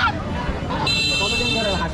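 Chinese ducks at a market honk and call close by, a few quick nasal cries over a low babble of people talking.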